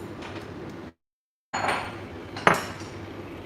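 Pots and a rice pan are washed at a kitchen sink, with running water hissing steadily, a brief silent gap, then water resuming and a sharp metallic clank of cookware near the end.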